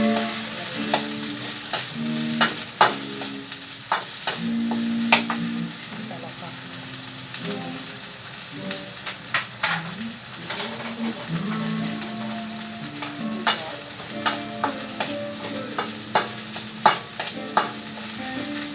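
Squash and ginger are stirred and fried in a pan, with steady sizzling and repeated scraping clicks of a utensil against the pan over most of the stretch, and occasional voice in the background.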